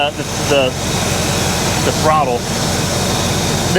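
A warmed-up 1968 Pontiac Tempest Custom Convertible engine idles with a steady, close mechanical hum while someone talks over it throughout.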